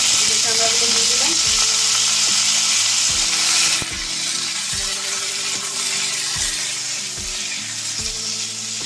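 Two dried red chillies fry in hot oil in a pan with a loud, steady crackling sizzle close by, while a low rhythmic clanking knock repeats about once a second underneath.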